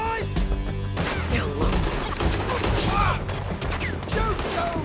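A Red Dead Redemption 2 shootout with steady gunfire and clattering shots throughout a chaotic, dense mix, with shouting voices underneath.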